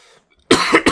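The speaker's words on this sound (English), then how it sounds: "I'm going to never stop coughing" A single person coughs loudly, a short burst of two or three harsh coughs close up after a faint, quiet lead-in.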